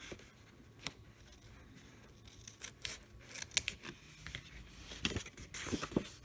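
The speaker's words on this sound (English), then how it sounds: "we are going to cut a corner right here," Scissors snipping a corner off a binder cover during a craft makeover, quiet scattered snips and paper rustles close by, without speech.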